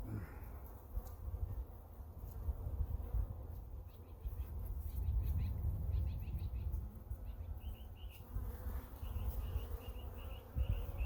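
Honeybees buzz with a steady drone during a first hive inspection, close and continuous, with faint chirps from birds outside.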